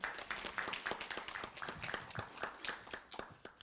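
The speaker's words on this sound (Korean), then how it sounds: "큰 박수로 맞이해 주시기 바랍니다" A small audience at a Korea University startup event claps to welcome the director giving the closing address, fairly faint and sparse with distinct individual claps at an uneven rhythm.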